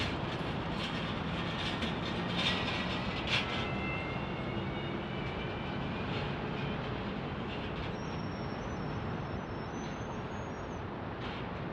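A Lufthansa airliner at Phoenix Sky Harbor Airport, heard as a steady broadband jet roar that holds fairly constant and distant, with a faint whining tone emerging toward the end.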